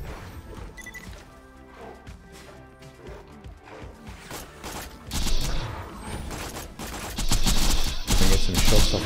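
Borderlands 2 combat with a Pimpernel sniper rifle: a chaotic run of repeated loud shots, impacts and crashing bursts that grows heavier and louder in the second half, layered over steady game music.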